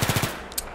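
FAMAS rifle fire in Battlefield 3: a quick burst of four rapid shots up close, followed by faint clicks and a small metallic tick.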